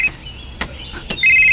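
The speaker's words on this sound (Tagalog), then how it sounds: "ang akong cellphone." A cellphone rings in a radio drama with thin, high electronic tones at the start and again near the end, separated by a couple of soft clicks, close and fairly loud with no voices.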